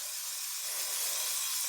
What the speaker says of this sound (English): you're spraying this stuff on anything you don't want to rust, like really nice brake lines